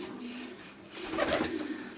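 Racing pigeons cooing at the loft, several soft throaty coos rising midway through, fairly close, with a faint background hum and no speech.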